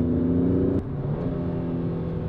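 A Kia Stinger GT 2 with its standard exhaust pulls hard, a steady engine drone that drops as a gear change comes through and then carries on at a lower pitch, heard from inside the car without talk.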